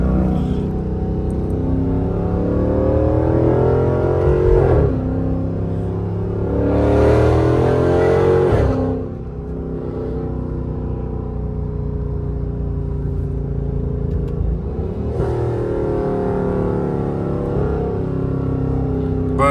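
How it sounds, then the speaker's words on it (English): A 5.7L Chrysler 300 with BBK headers and a Corsa Extreme catback exhaust runs close by, its deep engine drone swelling through several revs and throttle changes, loud and continuous with no talk. "the car ain't that loud off the simple fact of how I still got 2 mufflers from my catback exhaust"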